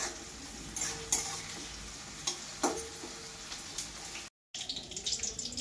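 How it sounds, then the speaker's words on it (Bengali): Panch phoron spices frying in hot oil: a close, continuous crackling sizzle with several clattering stirs against the pan, a brief dropout near the end, then more sizzling. "তেল গরম হয়ে গেছে, 5 ফোড়ন দিচ্ছি আমি।"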